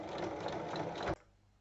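Sewing machine stitching across the ends of a zipper while making a quilted pouch, a steady close whirring run that stops abruptly after about a second, leaving near silence.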